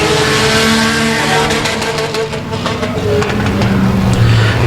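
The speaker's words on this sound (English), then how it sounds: "He's got that 4-cylinder revved out down the front boulevard." A 4-cylinder race car revs out down the front straight of a Texas dirt speedway, a loud sustained engine drone with shifting pitch and a crackling rasp, mixed with other engines.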